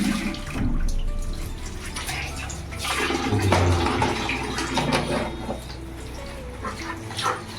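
Fresh pabda fish being rinsed under a running tap in a home kitchen, a steady close splash and water flow that continues throughout with some handling clatter.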